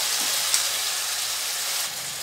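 Tomato frying over high heat in a pan with softened peppers and onion for paella, giving a steady, dense sizzle and hiss close up, continuous throughout with no voices.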